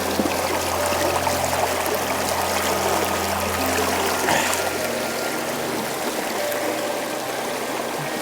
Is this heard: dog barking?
no